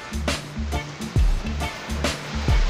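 Strong sea waves on an island shore in Sta. Ana, surging and breaking in repeated washes, loud and close, with low rumbling swells and a recurring rhythmic thump.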